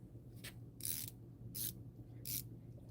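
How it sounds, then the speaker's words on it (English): A ratcheting screwdriver built with a 711L attachment clicks close by in four short, quiet bursts of rapid ratchet ticks, each separated by a pause, over a faint steady room hum. "Now you have a ratcheting screwdriver."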